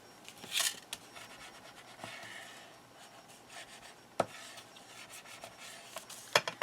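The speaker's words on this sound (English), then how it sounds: "Let's give it a bit of a burnish." Quiet rubbing and scraping as a glued vellum coin envelope flap is burnished flat by hand, a soft continuous friction with a few sharper taps, close and alone.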